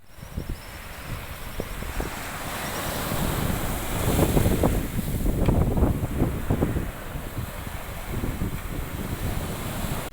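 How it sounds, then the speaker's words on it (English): Waves wash onto the beach at La Piscina in Tayrona Park, Colombia, with steady wind rushing across the microphone and a few louder surges breaking through the middle of the clip. "We are in La Piscina, or the pool. This is a really nice beach here around."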